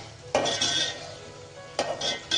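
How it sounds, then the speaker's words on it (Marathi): Brinjal and potato pieces go into a pan of simmering curry, with a few sharp metallic clatters of utensil against the pan in separate bursts over a low cooking hiss. "तर आता ह्यामध्ये वांग आणि बटाटा टाकून घेऊ."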